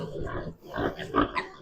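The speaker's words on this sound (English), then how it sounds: "Her pigs like to be out running, so we're going to go ahead and let them out." Pigs in a pen grunt and snort in quick, close, uneven bursts.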